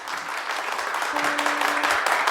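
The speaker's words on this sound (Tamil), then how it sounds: "நல்ல ஒரு பலத்த கைத்தட்டல்." Strong, sustained applause from an audience at a Catholic youth musical event in Chennai, a steady dense wash of clapping across the whole stretch with a faint held tone entering midway.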